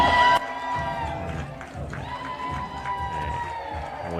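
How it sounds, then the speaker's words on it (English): Crowd at a pickleball tournament cheering and shouting as an announcer riles them up with freebies, a sustained roar of mixed voices with whoops, a loud burst at the start and a voice audible within the din. "We can see our announcer getting the crowd riled up, giving away some freebies"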